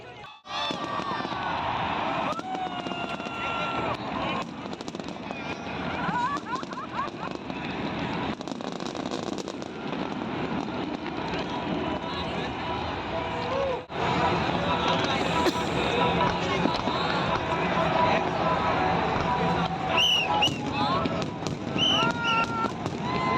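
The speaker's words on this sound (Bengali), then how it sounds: "প্রচুর বাজি ফাটানো হয়েছে" Firecrackers and fireworks burst during the Dev Deepavali festival night in Varanasi, a dense, continuous barrage of pops and crackles with a crowd murmuring and people talking underneath.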